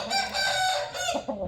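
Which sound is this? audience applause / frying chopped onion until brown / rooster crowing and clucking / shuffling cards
rooster crowing and clucking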